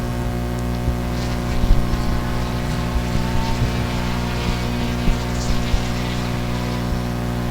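Bomber-class stock cars race around a short oval track at a liquidation bomber race, engines droning in a steady, loud, low roar with cars surging past in a constant pack.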